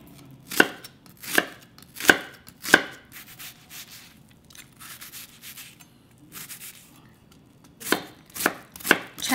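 Knife chopping vegetables into small pieces on a cutting board for beef and vegetable porridge, sharp distinct chops in short runs with pauses between, close and clear with no talking.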